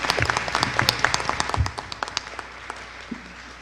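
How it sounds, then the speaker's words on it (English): Audience applause at a council meeting, a burst of clapping that rises briefly and then thins to scattered claps, moderately loud and close. "for that, I give you a round of applause."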